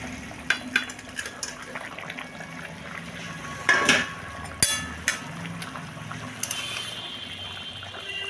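Bengali fish curry broth with potato, beans and lentil dumplings simmering in a pot, a steady bubbling hiss with a few sharp clinks of a utensil against the pan.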